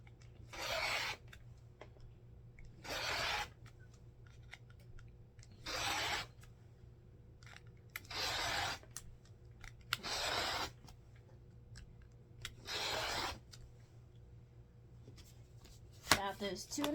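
A rotary cutter slices cotton fabric strips along a Stripology ruler, making seven short rasping strokes at a steady pace over a quiet room hum.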